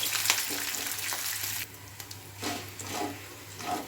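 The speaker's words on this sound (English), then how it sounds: "Saute for just 2 minutes like that." Curry leaves and green chili sautéing in a pan for South Indian coconut rice, a steady close sizzle with soft stirring scrapes, louder in the first half and then easing to gentler frying crackle.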